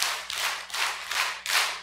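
An audience at a Bible lecture gathering claps in tight unison, a short run of about five crisp, evenly timed claps, near and distinct with no voices.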